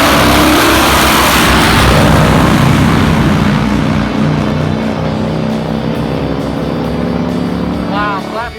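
A nitro Harley drag bike launches off the line at a drag strip with a sound wall, a loud, roaring engine blast that stays heavy for several seconds before fading slightly as it pulls away.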